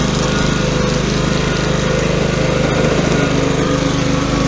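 Honda HRB535 lawn mower running close by with its drive engaged, a loud, steady, buzzing engine drone that holds constant throughout.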